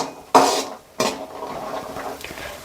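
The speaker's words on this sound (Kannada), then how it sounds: "ಈ ಬಟಾಣಿ ಕಾಳನ್ನ ಒಂದು 2 ನಿಮಿಷ ಫ್ರೈ ಮಾಡ್ಕೊಳ್ಳೋಣ" Boiled green peas dropped into a hot pan for paneer masala gravy, with two sharp sizzling bursts followed by a softer ongoing fry and faint clinks of a utensil.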